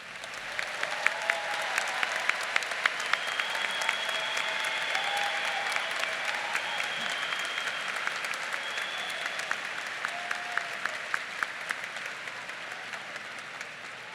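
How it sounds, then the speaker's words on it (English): A graduation audience at a 2019 Ball State University spring commencement breaks into loud, sustained applause lasting the whole stretch, the dense clapping holding steady with a few brief cheers rising above it. "Let's give our graduates another round of applause."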